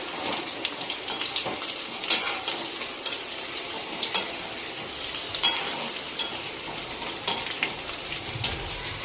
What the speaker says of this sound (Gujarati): હળવા હાથે આપણે આ રીતે મિક્સ કરી લઈશું